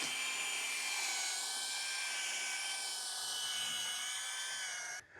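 A drill wet-sands a car headlight with 1500 grit sandpaper, giving a steady, high-pitched whine that holds evenly at close range before cutting off abruptly near the end.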